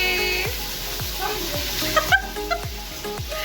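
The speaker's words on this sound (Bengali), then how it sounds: "এটা পটল ভাজছে" Pointed gourd frying in a pan gives a steady, close sizzle, with soft low knocks recurring about every half second underneath.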